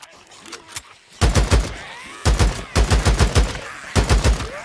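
Bursts of gunfire rip through a horde in the video game Days Gone, coming in rapid repeated volleys with short gaps between them and loud, close shots after a quieter opening.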